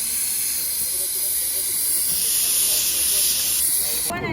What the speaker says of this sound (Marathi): बघा शिटी झाली